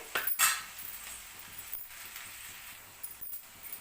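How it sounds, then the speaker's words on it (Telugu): A spoon clinks against a pan while okra fry is stirred, with a sharp scrape near the start and a few light metallic taps later, fairly close and without talk. "దీన్ని మధ్య మధ్యలో కలుపుతూ ఉండాలి, అడగంటకుండా"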